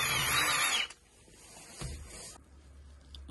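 A power tool with a 17 mm socket undoes a ball joint nut on a Fiat 500 being converted to Tesla power, giving a brief loud whirring burst at the start that stops abruptly, followed by quiet workshop noise and a faint clunk.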